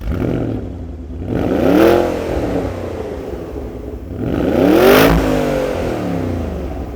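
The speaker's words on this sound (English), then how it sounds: "it's got a really beefy exhaust system." A modified car with a beefy aftermarket exhaust revs twice, each blip rising and falling in a loud, throaty swell close by, with idle in between.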